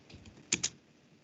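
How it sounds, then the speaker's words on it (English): Two quick, crisp keystrokes on a computer keyboard while a yum install command is entered in a Linux terminal, close and fairly quiet against faint room noise. "So I'll just type YUM install"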